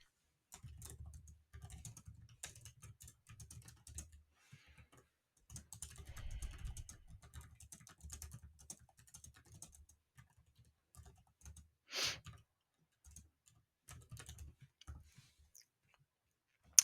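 Typing on a computer keyboard, close and fairly quiet, in irregular bursts of rapid keystrokes separated by short pauses, with a single sharper click partway through.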